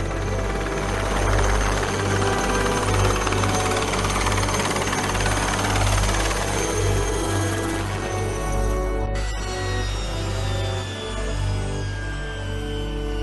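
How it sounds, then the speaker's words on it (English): Indian Army military helicopters fly off after a supply drop, a loud, continuous rotor thrum and engine roar with a steady throbbing pulse that holds nearby, without talk. "The helicopters disappear immediately after their Santa Claus act."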